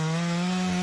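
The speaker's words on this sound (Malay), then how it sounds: "Lebih-lebih lagi apabila bekerja menggunakan gergaji berantai." A chainsaw runs during professional tree surgery in Malaysia, cutting tree branches; a loud, steady engine drone holds evenly through the short moment, close by and with no voices.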